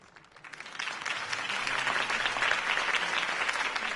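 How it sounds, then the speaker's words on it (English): A crowd applauds at a campaign speech in the Batman Telltale game, the clapping swelling from a faint start into a dense, steady ovation, with no talk over it. "If only Mr. Wayne, my campaign's largest backer, could have heard that applause"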